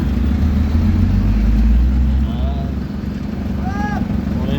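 Road traffic crawling near a busy town market in the morning, a heavy low engine rumble up close that fades midway, leaving lighter traffic noise and a few brief high squeaks, with people talking over it.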